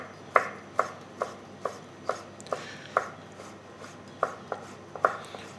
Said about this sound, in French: nous allons tailler notre poitrine en fin lardon